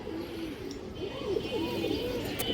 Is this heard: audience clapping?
no